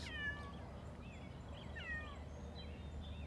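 A cat meows faintly a few times, short rising-and-falling cries over a quiet outdoor garden background.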